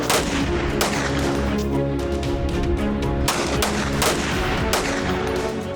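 Sustained exchange of gunfire between police and bandits, with dense overlapping shots and sharp bursts cracking loudly over a constant roar of continuous firing from both sides.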